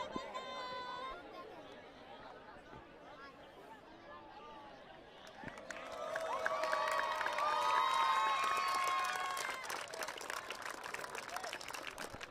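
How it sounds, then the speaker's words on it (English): Crowd cheering and applause at a Bangladesh vs India 15-a-side rugby match in Kolkata as India players clap; quiet murmur swells into sustained clapping and cheers midway while a commentator's voice carries over it. "A round of applause from the India players, a bow of appreciation from them."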